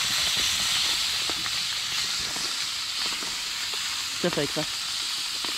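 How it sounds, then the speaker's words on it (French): Small sunfish sizzle in a frying pan with a broad, steady hiss, close and loud, while a voice speaks briefly over it near the end. "Donc là on va mettre les petites perches soleil. Et les répartir un peu bien sur la poêle."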